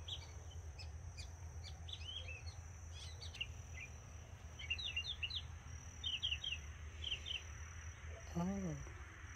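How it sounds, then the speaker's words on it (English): Outdoor ambience with scattered bird chirps and short tweets over a steady low rumble, plus a louder warbling call near the end. "hear the sounds of the bird."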